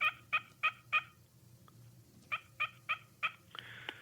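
A wild turkey gobbles in the distance in a spring woodland: four rapid rattling gobbles, a pause, then four more, ending with a short burst of noise, faint against quiet outdoor ambience.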